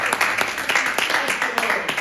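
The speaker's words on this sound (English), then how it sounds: "Give the Lord a hand clap of praise." Church congregation clapping in praise during a sermon, with quick, fairly loud rhythmic hand claps running through the whole moment, a few voices mixed in.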